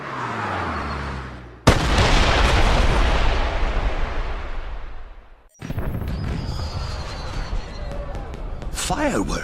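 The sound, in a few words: fireworks exploding in 007 Bloodstone video game cutscene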